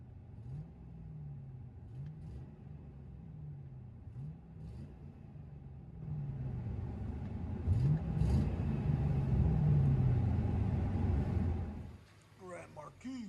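Deep, throaty V8 exhaust drone from a muffler-deleted 2001 Mercury Grand Marquis 4.6L with true dual exhaust, heard from inside the cabin, rising as the car accelerates then easing off, with voices talking over it.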